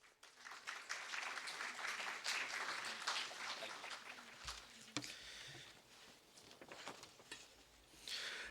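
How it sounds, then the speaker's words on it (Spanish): Applause rises from the audience at a university conversation event on diplomatic experiences, a broad steady clapping that fades slightly toward the middle and swells again at the end. "Fuertes palmas para Julián"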